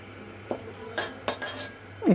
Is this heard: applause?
no